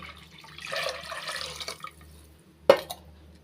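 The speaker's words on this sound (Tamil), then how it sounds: "அஞ்சு கப்பளவு வந்து தண்ணி சேர்த்துக்கிறேன்" Water pours into a pot of rice already mixed with coconut milk and tamarind water: a soft, steady splashing pour lasting about a second and a half, then a short sharp clank of a vessel near the end.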